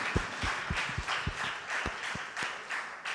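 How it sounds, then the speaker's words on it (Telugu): A Catholic congregation claps loudly in praise during worship, with sharp, uneven claps arriving every fraction of a second over a steady murmur of room noise. "ఆత్మతో ప్రభుని ఆరాధించిన వారు గట్టిగా చప్పట్లు కొట్టి"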